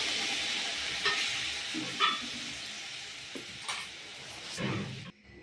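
Water poured into a pan of brinjal masala, drawing a faint, steady sizzle with a few soft stirring clatters before the sound cuts off abruptly near the end.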